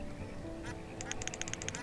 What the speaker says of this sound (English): Let's buy some ducks.